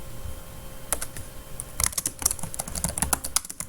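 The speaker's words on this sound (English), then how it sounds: "I'll even type Antonio Macri in here." Fingers type on a computer keyboard in a quiet room, a few isolated taps at first, then a quick, irregular run of close, crisp key clicks.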